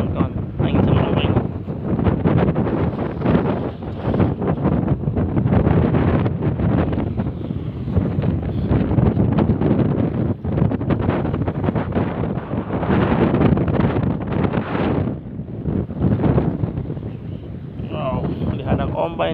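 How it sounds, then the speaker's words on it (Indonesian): Strong wind buffets a small fishing boat rolling on rough southern-storm waves while out catching bait at sea, a loud continuous roar of gusts and water with people talking over it throughout. "Angin sama ombak."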